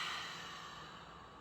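A slow, soft exhale through the nose and mouth during a relaxing stretch, a single breath fading gently over about a second, quiet and close with no talking.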